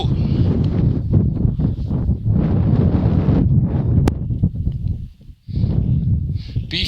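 Strong north wind blowing across Vršič mountain pass, buffeting the microphone in loud continuous rumbling gusts with a brief lull near the end.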